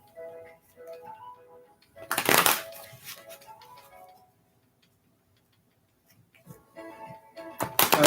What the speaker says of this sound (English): One more deck I'm going to shuffle